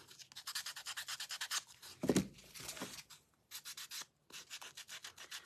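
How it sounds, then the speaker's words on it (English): Sandpaper rubbed back and forth along the edge of a wooden heart, close rhythmic scratchy strokes in quick bursts with a brief pause near the end. "I'm going to give that edge just a little bit more of a sand."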